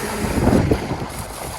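Steady wind buffeting the microphone, a low rumbling roar that swells briefly in the middle and then settles, with no voices.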